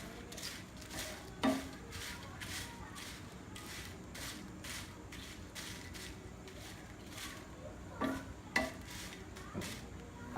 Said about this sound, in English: Now fry this red chili 2 to 3 minutes.